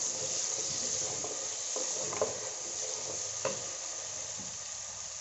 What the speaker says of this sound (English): I'm going to add in the onion immediately. And stir this oil up.